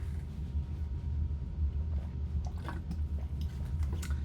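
A person takes a few quiet sips of water, with soft, close liquid sounds over a low, steady background hum.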